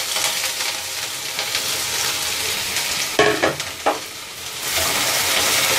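Chopped onions dropped into hot mustard oil in a pan for lauki kofta curry, a steady loud sizzle with a few stirring clatters midway and the frying swelling louder near the end, no voices.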